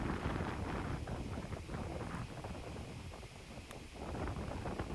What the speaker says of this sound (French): Un vent qui arrive toujours très fort de la droite.